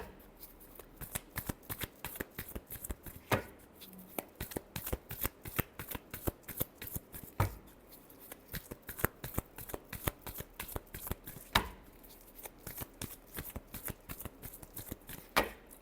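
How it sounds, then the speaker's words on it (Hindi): Tarot cards being shuffled by hand, close and fairly quiet: a long, steady run of quick papery riffles and taps at an even rhythm with occasional louder slaps, no speech. "Last shuffle."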